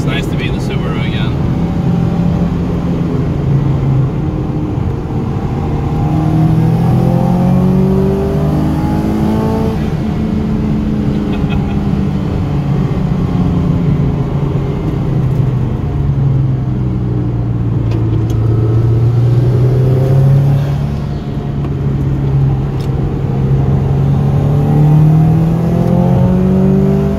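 Subaru Impreza STI Spec C Type RA engine while driving, a steady close rumble with rising and falling revs that swell and ease over nearly half a minute, no talking over it.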